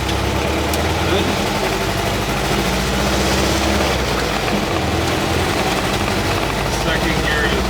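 A car engine pulls steadily in first gear, a loud continuous low drone with a slowly shifting pitch that stays close and constant throughout, with a voice talking over it.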